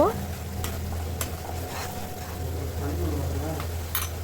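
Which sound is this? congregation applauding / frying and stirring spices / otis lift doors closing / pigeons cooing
frying and stirring spices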